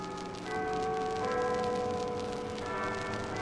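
Church bells ring from a cathedral as an audio drama effect, a sustained overlapping metallic peal that stays steady and fairly loud throughout, with no voices.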